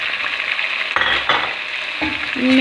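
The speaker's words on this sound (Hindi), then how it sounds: "ज़रा चम्मच चला के" A spoon stirs ground turmeric, chili, salt, cumin and coriander frying in a pan for chicken curry, with a steady sizzle and a few sharp metal scrapes and knocks against the pan.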